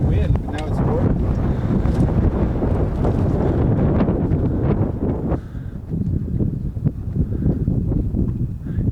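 Strong wind gusting against the microphone on a mountain descent, a loud buffeting roar that eases slightly partway through, with no speech over it.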